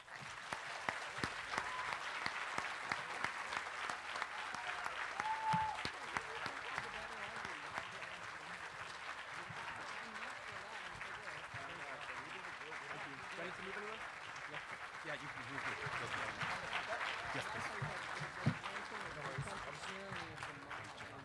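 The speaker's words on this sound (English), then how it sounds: "Another big round of applause for them one more time" An audience at a state civics and debate championship applauds after the speeches, a steady, sustained round of clapping from a full room with some indistinct voices mixed in.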